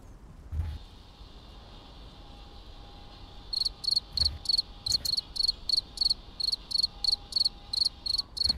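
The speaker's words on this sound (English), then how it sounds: "Am I the only one hears these crickets?" Crickets in the off-road driving game SnowRunner chirp in quick repeated bursts, close and clear over a quiet ambient background with a couple of soft low thumps.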